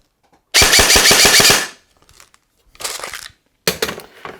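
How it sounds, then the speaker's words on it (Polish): A G&G CM16 Wild Hog airsoft M4 rifle fires a loud, rapid full-auto burst of about a second, followed by two shorter bursts with quiet gaps between them. "I zobaczmy jak maleństwo od Combat Machine strzela."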